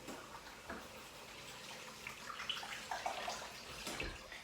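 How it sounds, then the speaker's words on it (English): Tap water runs steadily into a kitchen sink during handwashing, a soft continuous splash with small irregular spatters and a faint knock near the end, fairly quiet throughout. "so now I have to wash my hands again."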